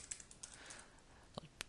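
Typing on a computer keyboard: a handful of sparse, faint key clicks scattered across a quiet background, with two sharper taps near the end.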